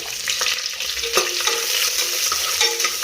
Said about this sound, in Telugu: ఈ ఉల్లిపాయ ముక్కలు అయితే బాగా బ్రౌన్ కలర్లో వేగాలండి